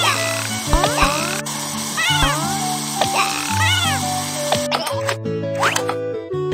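Repeated meows from a cartoon stray kitten in a Dr. Panda animal-rescue game, several clear cries over bright game music and interface chimes.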